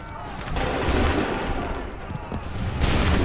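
Gunfire in Assassin's Creed 3 rolls out as dense, overlapping musket volleys and booms, loud and continuous, with a scattered roar of shots lasting throughout.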